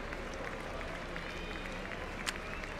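A tennis crowd at the BMW Open in Munich gives a standing ovation in the TopSpin 2K25 video game. The applause is a faint, steady wash from a distance that carries on under commentary.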